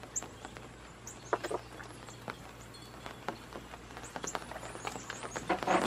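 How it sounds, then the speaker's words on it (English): Rain pattering in the woods in scattered drops and taps that grow denser toward the end, with no voices. "I do believe it's raining."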